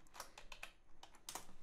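Keys clatter on a computer keyboard as a file name is typed, a quick uneven run of about a dozen soft clicks close by and quiet, with short pauses between bursts.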